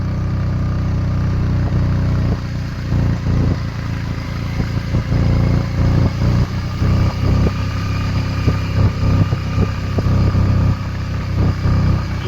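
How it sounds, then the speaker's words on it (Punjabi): Smoking as it climbs a high mountain road, a motorcycle engine runs close and steady, its rough drone wavering and sputtering unevenly throughout. "ਦੇਖੋ ਬਈ ਧੂਆਂ ਕੱਢਿਆ ਪਿਆ ਮੋਟਰਸਾਈਕਲ ਐਨੀ ਉੱਚੀ ਪਹਾੜੀ"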